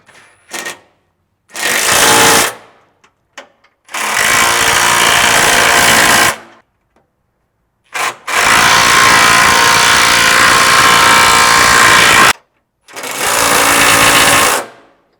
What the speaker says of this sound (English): Now we're going to go ahead and tighten all of these bolts.